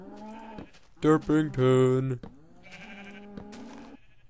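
A sheep bleats in a video game, several wavering calls in a row, loud and close, while someone talks over and around them.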